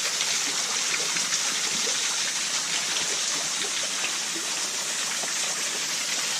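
Water rushes and splashes in a steady, continuous wash from a small waterfall in Sussex nearby, with no voices.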